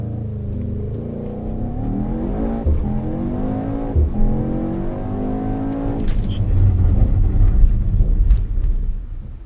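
A Mercedes-AMG GT63S launches hard on a track, its engine revving up through rising harmonics in a loud, close surge that builds steadily to the end.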